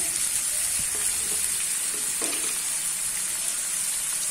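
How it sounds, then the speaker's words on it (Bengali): Tomato, onion, ginger and garlic fry for an egg curry with a constant bright sizzle, broken by a few light stirring clinks, and no voices over it. "আমি টমেটো আর পেঁয়াজ আদা রসুন একটু কষিয়ে নিই।"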